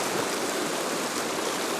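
Fast, rushing river water in Fiordland, a dense steady broadband roar of current heard up close with no gaps and no voices.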